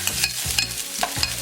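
Onion sizzles in a hot pot for oxtail rasta pasta while a spoon scrapes through it in quick repeated strokes, loud and close, with no voices.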